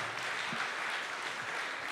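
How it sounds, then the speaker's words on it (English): A brief burst of faint, diffuse applause comes from an audience welcoming a guest at a Phoenix anti-Trump debate tour event. The clapping is blended into a continuous, distant-sounding wash of noise. "Let's give him a round of applause."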